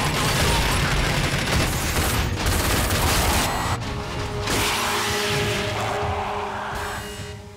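Heavy-weapon gunfire in the shooter game RAGE, a loud dense fusillade of rapid shots and crashing impacts that thins out in the last seconds.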